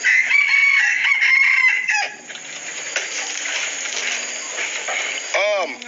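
A village rooster crows close by in one long strained call near the start, and shorter clucks and calls follow, with people talking quietly under the bird.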